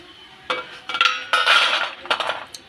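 Crispy fried kurkure made from leftover rice is lifted out of hot oil, giving a few bursts of light clinking and rattling as the pieces knock against a metal spoon and pan, close and clear.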